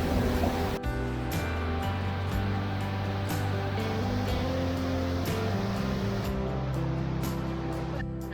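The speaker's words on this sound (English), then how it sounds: "I'm guessing that's why the waterfall is so powerful" Powerful waterfall swollen by three days of rain, a steady loud roar of rushing water that runs unbroken throughout, with strong low rumble and broad hiss and no voices.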